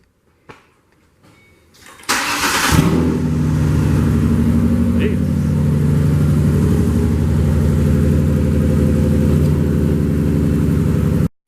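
A car engine cranks and catches after an oil change, then settles into a loud, steady idle close by that runs for several seconds, with brief handling noises before the start.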